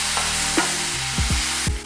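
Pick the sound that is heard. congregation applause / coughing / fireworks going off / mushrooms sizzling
mushrooms sizzling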